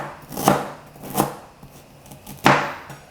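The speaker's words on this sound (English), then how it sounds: "I like to just cut it into thin slices just to aid it in the food processor" Three sharp knife strokes slice firm ginger on a board, spaced unevenly, close and clear with quiet pauses between.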